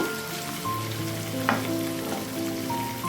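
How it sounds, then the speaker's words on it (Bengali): Potatoes fry in a pan with a steady, close hiss and crackle throughout, accompanied by soft background music and a single brief clatter in the middle. "আর এদিকে দেখো শনিবার রসের আলুটা ফ্রাই হচ্ছে"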